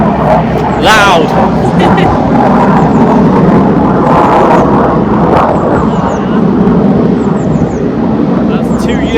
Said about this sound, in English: That's 2 Eurofighter jets. They're based in Lincolnshire, and they just fly.